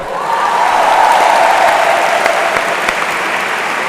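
Applause at a university graduation closing ceremony on a Bruges campus, loud continuous clapping from a large audience, steady and even throughout.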